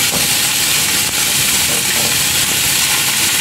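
Saucy pork belly with mushrooms and a bay leaf being stirred in a pan, a loud, continuous close sizzle and hiss of frying with faint scraping throughout.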